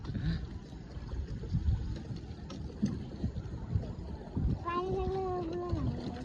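A boat moves on water, carrying family members home: a soft, steady wash of motion and water noise with faint knocks, and a voice rising over it near the end.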